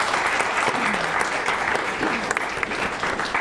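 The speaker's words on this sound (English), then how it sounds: "Can we give her a round of applause?" A studio audience at a behavioral health television show breaks into loud, sustained applause, a thick continuous crackle of many hands with a few cheers and voices faintly mixed in.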